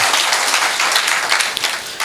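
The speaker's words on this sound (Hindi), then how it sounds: "एक बार जोरदार ताली बजाइए, बड़ा विमोचन हुआ।" An audience bursts into enthusiastic applause at a book launch during a Hindi comic poetry event, a dense, close clatter of many hands clapping briefly.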